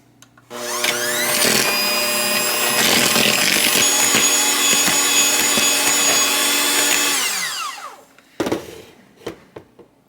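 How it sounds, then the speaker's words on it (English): An electric mixer beats cupcake batter with oil added in a home kitchen, giving a loud, steady motorized whine for about seven seconds before cutting off, followed by a few light knocks and scrapes. "And then we're just going to mix that until it's creamy."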